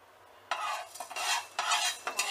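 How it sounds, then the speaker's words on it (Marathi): Fenugreek seeds dry roasting and being stirred in a pan, with bursts of scraping and faint crackle starting after a quiet half-second and recurring in uneven strokes, close and moderately quiet. "आणि आता या पॅनमध्ये आपण थोडीशी मेथी भाजून घेऊयात।"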